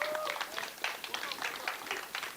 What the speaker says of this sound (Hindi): एक बार सारे कास्ट के लिए बहुत सारी तालियां होनी चाहिए प्लीज़